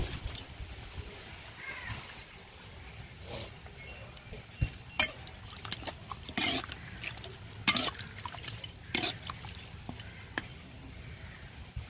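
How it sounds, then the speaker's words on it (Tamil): Water is poured into a cooking pot of Tamil-style chicken roast. A faint, continuous sizzle and liquid bubbling are broken by intermittent splashes and clinks, with no talking. "தண்ணி ஊத்திக்கிறோம்."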